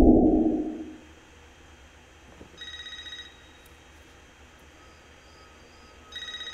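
A telephone rings in the Scream 5 trailer: after a low rumbling opening fades, two short bursts of electronic ringing come through clearly against a quiet background.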